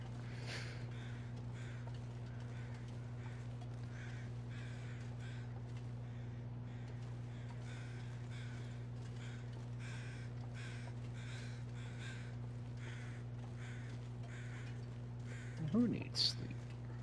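A crow caws repeatedly in the snowy survival game The Long Dark, faint against a steady low hum, while someone talks over it.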